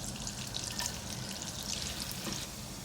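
Finely chopped onion frying in about two tablespoons of melted butter in a pan, giving a steady, close, bright sizzle with faint crackles and no one talking.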